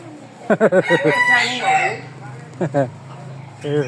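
A rooster crows loudly, its long rising call ringing out over short bursts of chicken clucking at a farm where many birds are raised.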